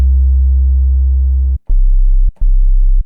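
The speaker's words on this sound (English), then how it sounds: "it's really starting to sound like a sub sound, a sub or 808 sound" A heavy, distorted low 808 bass synth tone made in FL Studio holds, then plays two shorter notes separated by brief gaps, loud and buzzy with no voices.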